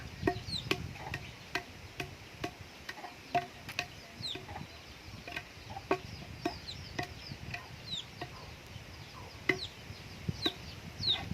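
Farmyard chickens cluck and chirp in short repeated bursts, some close and some farther off, over a faint insect buzz outdoors.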